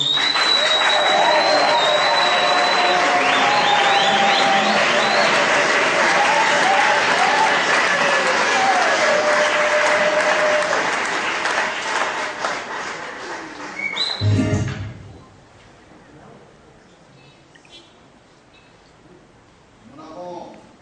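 Audience applause at a ceremony in Kinshasa, a loud, sustained wash of clapping with whistles and cheering that cuts off abruptly, leaving faint scattered noise.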